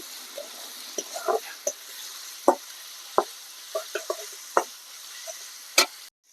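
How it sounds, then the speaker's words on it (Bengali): Coriander powder and spice masala frying in a pan while being stirred, giving faint sizzling under a series of sharp, irregular scraping and tapping strokes from the spoon against the pan. "এই সব কিছু দিয়ে আমি এটাকে ভালো করে নেড়ে চেড়ে কষাবো যতক্ষণ এই মশলা থেকে তেল ছাড়ছে"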